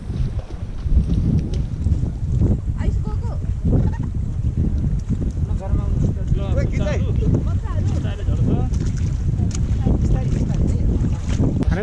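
Strong wind blows across an open boat out on Rara Lake, a loud continuous rumbling roar of gusts and microphone buffeting, with faint voices talking under the noise.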